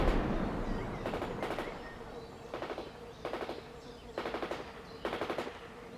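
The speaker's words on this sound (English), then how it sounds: "A machine gun." Machine gun fire in the World in Conflict video game: short, rattling automatic bursts repeating about every second, set over a steady low battlefield rumble.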